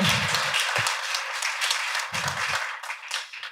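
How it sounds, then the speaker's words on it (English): Warm audience applause after a keynote at a panel on sustainability and entrepreneurship, a steady wash of clapping that holds for several seconds with a few louder bursts, close and unbroken. "Warm applause."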